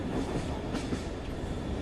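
A cartoon train rolls along with a steady, low rumble and faint clacking wheels, a continuous quiet drone with no talking over it.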